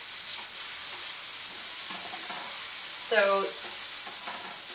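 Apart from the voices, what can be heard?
mint and coriander chicken char-grilling in a pan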